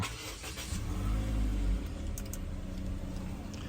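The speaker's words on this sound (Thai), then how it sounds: "เดี๋ยวผมขออนุญาตทำการสตาร์ทเครื่องให้ลูกค้าดูก่อนนะครับ" A 2018 Toyota Corolla Altis 1.6G push-button start: the engine cranks and catches with a brief rising rev, then settles into a quiet, steady idle, heard up close.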